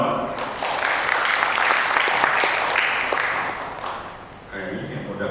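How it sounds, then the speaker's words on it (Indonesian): Audience applause at an Indonesian delegation press conference for the 2023 Busan International Film Festival, a steady dense clapping that fills the room for about four seconds before tapering off as a voice begins speaking. "Tepuk tangan dong."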